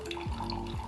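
Water is poured through coffee grounds in a filter, giving a faint, brief trickle and splash with a couple of soft gurgling drops, close by and without speech.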